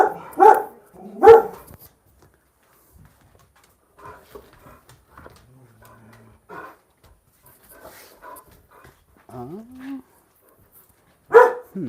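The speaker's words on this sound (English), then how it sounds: "sorry about the barking, everybody. That was a real bark." A dog barks twice, sharp and close, then quieter yelps and whimpers scatter through near-silence before one more loud bark at the end.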